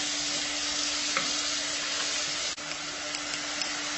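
Tomatoes fry in a pan with a steady, close sizzle that never lets up, while a spoon stirs through them with soft scraping and one brief tap, and nobody speaks.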